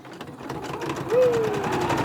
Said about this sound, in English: We're going to stitch this last little bit back and forth and back and forth.